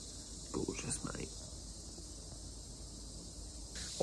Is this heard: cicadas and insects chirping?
yes